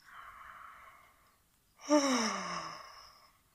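Two breathy exhales: a soft airy breath, a pause, then a deeper open-mouthed sighing exhale like a yawn, close and quiet.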